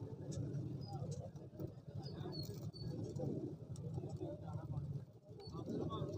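Golden pigeons at the Lahore Lari Adda pigeon market, soft cooing calls mixed with chirps and constant crowd chatter and market bustle, birds close by amid busy talk.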